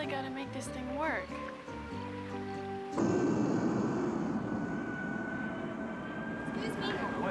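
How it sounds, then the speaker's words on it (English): Airliner landing, carrying passengers in from New York: a steady broadband engine roar with a high whine takes over abruptly about three seconds in and holds loud to the end, following a stretch of talk and music-like tones. "My parents' plane is just landing."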